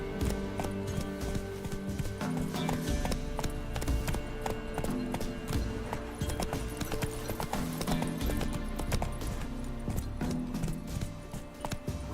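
Hooves of the horse Roach clatter at a gallop in the video game The Witcher 3, a steady, busy clip-clop with background game sounds and no speech.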